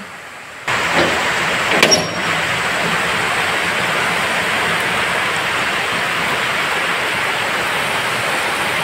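Heavy rain pours down steadily, a dense unbroken hiss that starts abruptly and continues loud throughout, with a brief clatter near the start.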